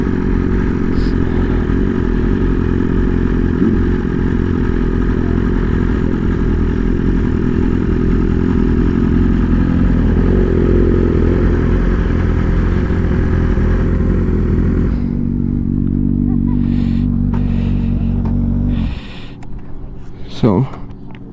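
Two motorcycle engines run loudly up close with a rough, rumbling drone that holds steady, then one cuts out and leaves a lower idle. A voice speaks near the end.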